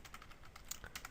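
Quick keystrokes on a computer keyboard, a short, faint burst of light clicks tapped in rapid succession, with no voices.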